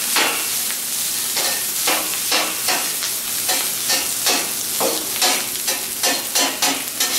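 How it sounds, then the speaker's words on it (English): Rice sizzles on a hot flat-top teppanyaki griddle while a spatula breaks it up, the frying hiss broken by rhythmic scraping strokes roughly twice a second, close and steady with no talk. "we're gonna take our rice, and just like they do, they drop it in. And we'll break it up a little."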